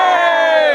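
A crowd at Warwick Castle cheers together in a single loud, sustained shout that fills the moment, with many voices blending into one bright roar.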